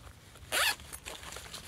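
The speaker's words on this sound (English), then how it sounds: "Now inside, you've got a nice zip," A zipper on a Wisport Raccoon 85-litre military backpack being pulled open in one quick, close rasp lasting a fraction of a second, over faint background room noise.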